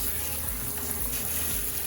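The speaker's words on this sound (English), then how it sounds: "I'm gonna go ahead and just wash them off, get some water on them." Fresh running water pours steadily over freshly caught crabs being rinsed, a continuous close splashing gush like a tap filling a sink, with no talk.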